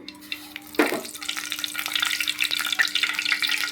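Coriander seeds dropped into hot oil burst into a sudden sizzle that settles into a steady crackling fry, close up with light stirring and no voices.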